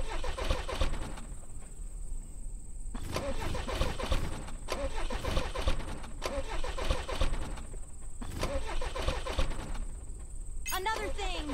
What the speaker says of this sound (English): You gotta kickstart the engine myself.